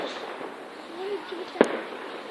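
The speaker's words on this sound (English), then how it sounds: "the few more fireworks are going off, I can see" A single sharp firework bang goes off at a distance on fireworks night, a brief crack rising out of a low, steady outdoor rumble.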